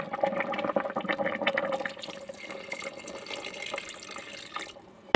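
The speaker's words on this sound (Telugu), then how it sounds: "ఈ స్టేజ్లో మనం చింతపండు పులుసు పోసేస్తాం" Tamarind juice poured into the boiling contents of an electric rice cooker gives a steady, close splashing pour lasting about five seconds, ending with a brief sharp knock.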